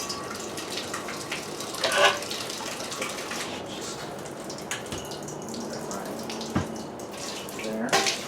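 Sanitizer solution runs from a tap into a homebrew fermenter bucket, a continuous splashing pour of moderate loudness with a few brief knocks and clatters.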